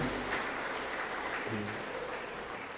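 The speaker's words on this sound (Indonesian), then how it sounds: "Tepuk tangan dulu buat lansia." Brief applause from a church congregation at a Sunday service honoring the elderly, a soft, steady patter of clapping lasting a few seconds.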